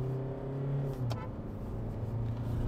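A Hyundai Creta engine accelerates hard from inside the cabin, a deep droning note climbing in pitch with a brief shift around the middle before building again.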